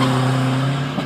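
Diesel pickups launching in a drag race, a Toyota Hilux against a Mitsubishi Strada, a loud close engine drone with strong low harmonics held for about a second, with no talk.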